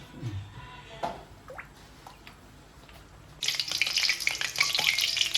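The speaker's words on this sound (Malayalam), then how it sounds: "നമ്മൾ സൺഫ്ലവർ ഓയിൽ ഒഴിക്കുന്നുണ്ട്" Sunflower oil is poured into a frying pan with a few soft drips and clinks. Then a denser bright crackle of sizzling oil comes up and carries on close by.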